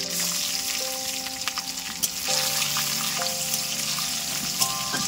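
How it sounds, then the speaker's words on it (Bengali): Nigella seeds, slit green chilies and crushed garlic hit hot oil for a tempering, giving a steady, close sizzle and crackle with scattered pops throughout, no voices. "তেলটা গরম হয়ে গেছে, এবার দেবো আমি ফোড়নে কালো জিরে, আর দেবো এখানে কটা চেরা কাঁচা লঙ্কা আর থেতো করে রাখা রসুন"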